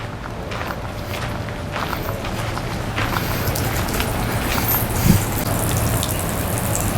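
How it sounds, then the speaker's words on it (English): Spring water runs steadily from the Columbian fountain at Congress Park, a continuous close wash of splashing flow with no break, outdoors in a public park. "Look at that spring water, just flowing, waiting to be drank."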